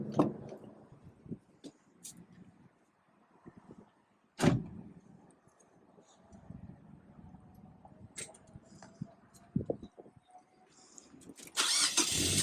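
Mazda MX-5 NC, the third-generation roadster, has a door thump, then its engine cranks and fires before the car drives off, with a louder burst of engine and road noise at the end.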